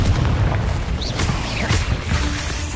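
A Confringo spell detonates in Hogwarts Legacy with a loud, dense booming blast that rolls on through the whole stretch, thick low rumble with scattered pops and magical whooshes layered above.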